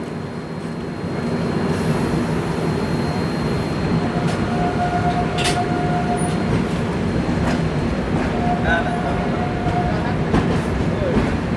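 An express train runs from Patliputra toward Gorakhpur near Dighwara, its steady rolling rumble heard from inside, loud and continuous, with brief faint tonal squeals and occasional clicks.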